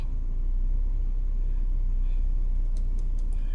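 A 2001 Toyota Corolla engine running lean, revving up under steady low rumble that stays loud and continuous throughout, with no clear rhythmic stumble but a rough, even drone.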